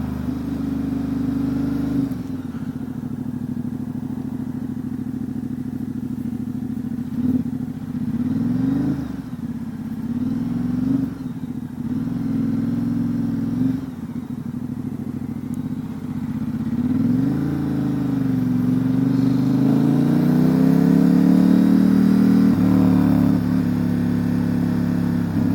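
A 2019 Ducati Diavel 1260 S with a Termignoni exhaust pulls hard under throttle, its deep engine note rising and falling through gear changes before swelling into a loud, sustained acceleration close to the microphone.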